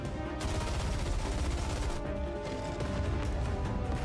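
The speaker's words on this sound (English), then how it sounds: "She thrusts her arm forward and a barrage of gunfire erupts." A sustained barrage of rapid gunfire from Arc Ranger Black's transformed arm weapon, a dense, loud, continuous rattle of shots with a brief dip partway through.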